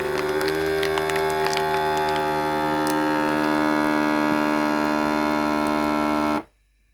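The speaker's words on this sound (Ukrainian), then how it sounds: "Йде процес запайки і витяг воздуху лишнього." Silver vacuum sealer pulling air out of a bag and sealing it, a steady loud electric motor hum with a buzzing tonal drone, constant for about six seconds before cutting off abruptly into silence.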